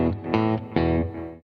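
Electric guitar on the bridge pickup through an amp with a little reverb and delay, playing a few ringing power chords, each struck loud and close and left to sustain and fade, no voice.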